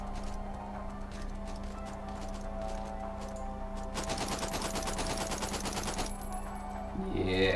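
Rapid gunfire in the VR shooter Out of Ammo, played on an HTC Vive, bursts out from about 4 to 6 seconds as a dense automatic volley over a steady background hum, with faint talk underneath.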